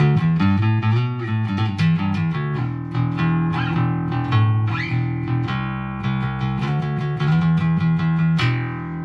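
A bass guitar, a cheap Squier P-Bass, through a Boss Katana 110 bass amp with heavy overdrive, plays a steady run of gritty, sustained notes, loud and close, with no voices.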